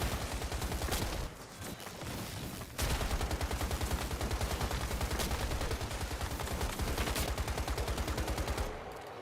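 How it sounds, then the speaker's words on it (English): Rapid, continuous gunfire from shooting in the video game Once Human, a loud sustained volley of evenly spaced shots with a brief lull early on, then steady fire until it cuts off near the end. "I'm just shooting wildly because I have Frost Vortex"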